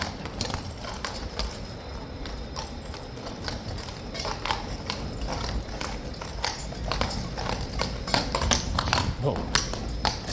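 Hooves clop and stamp unevenly on a hard surface amid constant background noise and people talking, suggesting a restless horse moving about nearby.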